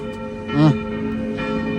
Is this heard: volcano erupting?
no